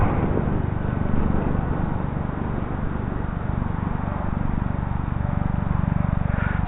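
A Dynam FW-190 RC model airplane flies on a windy, overcast day, its steady buzzing propeller drone loud and continuous throughout, mixed with wind rumble.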